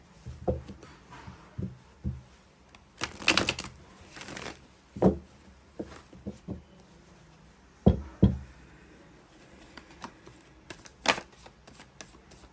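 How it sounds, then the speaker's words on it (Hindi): Tarot cards drawn and laid down from a third deck, giving a string of soft, close card slaps and taps at irregular intervals, with a few louder snaps. "और तीसरे डेक से भी मैं 2 कार्ड निकालने वाली हूँ।"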